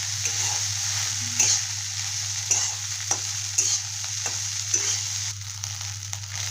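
Leftover rice is stir-fried into fried rice in a pan, a constant sizzle over a low steady hum, with rhythmic spatula scrapes and taps against the pan every half second or so.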